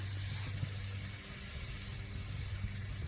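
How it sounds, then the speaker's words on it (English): A tomahawk steak sears on a Big Joe grill, producing a loud, continuous close-up sizzling hiss over a low steady hum, unbroken and with no talking. "I'm going to sear this sucker"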